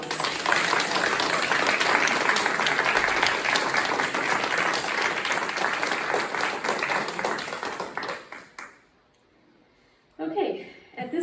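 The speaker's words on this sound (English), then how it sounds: "Please give her a round of applause." A room full of members applauds at a League of Women Voters annual meeting, with dense, sustained clapping for about eight seconds before it dies away and a voice begins speaking.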